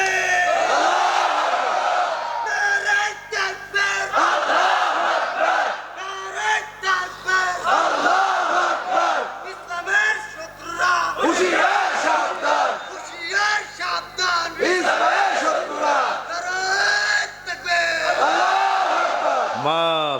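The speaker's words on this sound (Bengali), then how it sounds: "কি সুন্দর তাকবীর দিয়েছে যুবক মানুষ।" At a Bengali religious sermon gathering, a 17-year-old youth leads the takbir call and a large crowd answers in repeated loud chanted bursts, continuing in a steady call-and-response rhythm throughout.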